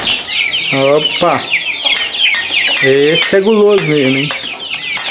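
A giant rooster about one metre tall gives several loud, close clucks and squawks in bursts, with a brief rustle of flapping wings. Someone speaks over the calls.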